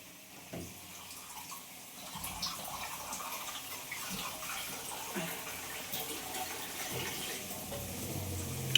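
Water poured into a pan of spice masala during home cooking, a steady running splash that holds from start to finish over faint kitchen background noise.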